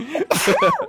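One short, loud human sneeze, close and alone, with a sharp intake of breath followed by a burst.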